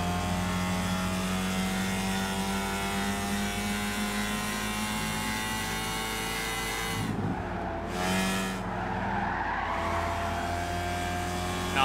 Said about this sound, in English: Let's see how much speed we can get out of this car.